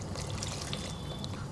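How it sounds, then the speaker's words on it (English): Water is poured into homestyle chicken curry cooking in a pot, giving a steady trickling, splashing pour that runs continuously and close by with no talking. "I'm going to reduce the flame a tad bit and I'm going to add the water."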